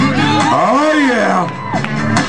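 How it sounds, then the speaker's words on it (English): A crowd at an outdoor lumberjack show cheers and whoops for a Tall Timber thrower, a loud sustained roar of voices with a rising and falling shout carrying over it. "So let's cheer him on."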